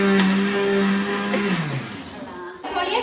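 A kitchen mixer grinder whirs loudly and steadily with a humming motor tone, which winds down near the end before a brief louder burst.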